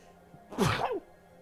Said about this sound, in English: Uh-oh, I'm gonna sneeze.